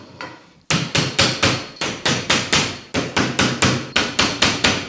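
A rubber hammer knocks something into place with about a dozen quick, evenly spaced blows after a short pause. Each strike is close, loud and dull, with no talking.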